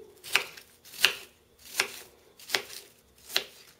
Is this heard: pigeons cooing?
no